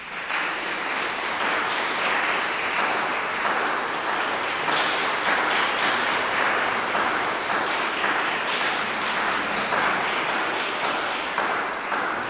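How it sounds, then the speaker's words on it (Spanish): An audience in a church gives sustained, strong applause to welcome a baroque guitarist, with dense, even clapping that stays loud and steady throughout. "lo recibimos con un fuerte aplauso"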